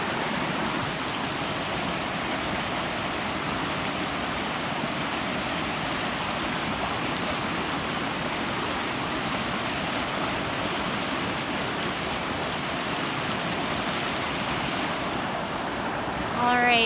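Rushing water from a backyard forest creek swollen after rain, a steady broadband wash that stays even and close throughout with no voices.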